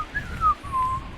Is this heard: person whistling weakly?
yes